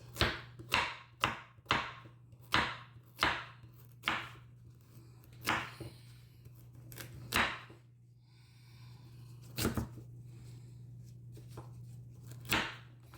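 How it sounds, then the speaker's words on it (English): A knife chops carrots for a lamb stew on a cutting board, a steady run of crisp, close thuds that slows into sparser cuts, with a low steady hum underneath. "We're going to cut up some carrots."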